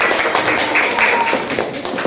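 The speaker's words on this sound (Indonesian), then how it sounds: "tepuk tangan kita semuanya" A class of schoolchildren claps hands together in a classroom, a dense patter of many quick claps running continuously and fairly close, with faint voices mixed in.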